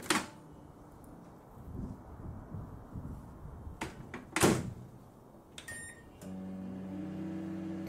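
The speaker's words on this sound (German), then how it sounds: "Da läuft die Mikrowelle im Hintergrund." A microwave oven is heard in the background, first through quiet room noise and clicks, then a steady low electrical hum that sets in for the final seconds, with a door-like thump and a brief beep along the way.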